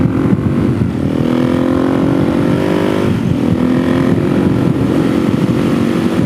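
Suzuki DRZ 470sm motorcycle engine droning steadily at close range while riding on a windy day, with a continuous loud hum, wind rush, and a slight pitch shift midway as the rider changes speed.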